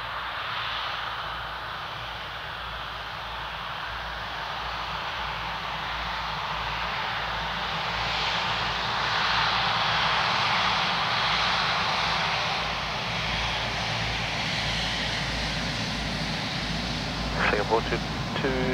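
Singapore Airlines jet departing Perth Airport on runway 03, a steady broad engine roar that swells gradually and stays loud throughout, heard from a distance with no one talking.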